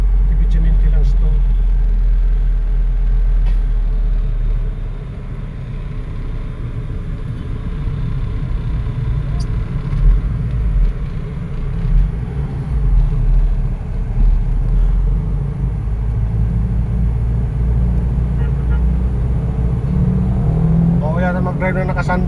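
A Toyota Revo manual pickup on a road test gives a steady low engine rumble and road drone throughout, with someone talking over it.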